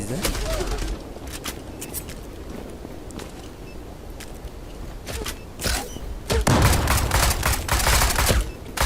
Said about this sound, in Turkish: Yani bu kadar seri sıkması imkansız. Kar 98'de.